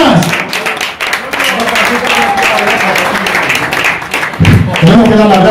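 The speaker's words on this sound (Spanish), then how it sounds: "un fuerte aplauso para ellos" A live concert crowd gives the band a loud round of applause, thick continuous clapping with voices and cheers mixed in, swelling near the end.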